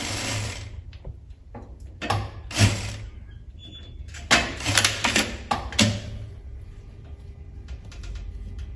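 An electronic industrial flat-bed sewing machine stitching fabric in short whirring bursts with pauses between, close and fairly loud.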